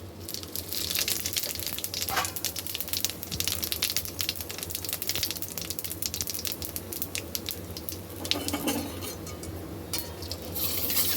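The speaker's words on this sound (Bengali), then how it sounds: "এবার দেবো আমি লঙ্কা আর তেজপাতা, আর দেবো আমি সাদা জিরা" Chilli, bay leaf and cumin go into a pan and get stirred, giving a continuous crackling sizzle with scattered clinks of a utensil against the pan, close and fairly even throughout.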